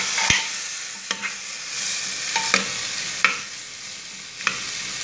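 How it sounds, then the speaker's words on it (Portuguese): Tomato and a small piece of bell pepper cook in a pan with a continuous soft sizzle, broken by a handful of sharp utensil scrapes and taps as the mixture is stirred, close and without voices. "Dou uma mexidinha."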